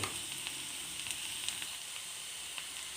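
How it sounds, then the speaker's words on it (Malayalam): Onions sauté in a pan as turmeric powder goes in, a faint, even sizzle and hiss with a few light ticks of stirring, no talking over it. "നമ്മുടെ സവോള വഴണ്ട് വന്നിട്ടുണ്ട് ഇതിലേക്ക് നമുക്ക് പൊടികൾ ചേർത്ത് കൊടുക്കാം കുറച്ച് മഞ്ഞൾ പൊടി"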